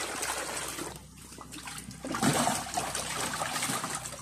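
Water being drawn and collected in a farm setting for making organic fertilizer for bitter gourd plants, a steady splashing, trickling flow close by with a surge partway through, no talk over it.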